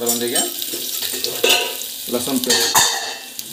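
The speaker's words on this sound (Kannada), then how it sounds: "ಲಸನ್ ಪೇಸ್ಟನ್ನು ಹಾಕ್ಕೊಳ್ಳಿ. ಸೊ ಎಣ್ಣೆ ಭಾಳನೇ ಕಾದಿತ್ತು" Garlic paste hitting very hot oil in a pan for masala khichdi rice, a loud steady hiss and crackle with scraping stirring sounds throughout, a voice speaking briefly over it.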